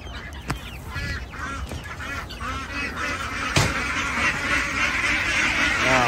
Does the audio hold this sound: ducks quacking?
yes